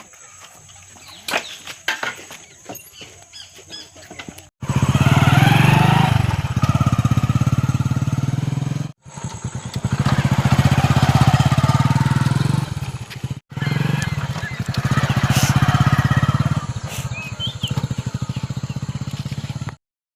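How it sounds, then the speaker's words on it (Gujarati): A motorcycle engine roars loudly in long, sustained runs, cutting out briefly between them after a quieter, clattering start. "બાઇક અવાજ આવશે"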